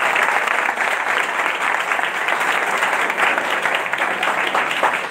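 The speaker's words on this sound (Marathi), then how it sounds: "एकदा जोरदार टाळ्या सगळ्यांसाठी" Loud, continuous applause from a crowd at a cycling club event, many hands clapping densely and evenly, with no break throughout.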